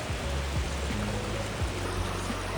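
Cold mountain-fed river water flows in a steady broadband wash, close and continuous, with a low rumble underneath and no voices.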